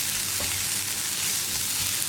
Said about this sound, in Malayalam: ഇത്രയും ചേർത്ത് നന്നായിട്ടൊന്ന് ഇളക്കി ഈ പൊടികളുടെ റോ ടേസ്റ്റ് മാറി വരുന്നത് വരെ ഇളക്കി കൊടുക്കാം.